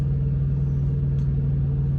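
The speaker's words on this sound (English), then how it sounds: "They stole the catalytic converters off of it also, so now it sounds like shit." A truck engine idles with its catalytic converters stolen, giving a deep, throbbing exhaust drone that pulses steadily and stays close and constant, with no voices.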